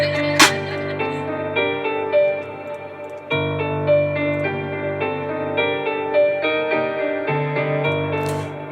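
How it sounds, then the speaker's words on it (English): Second section of an FL Studio instrumental without Gross Beat: sustained low piano-like chords under a repeating melodic pattern, with a couple of sharp bright hits, steady and close, no voices. "The second part of the instrumental without the gross beat sounds like this."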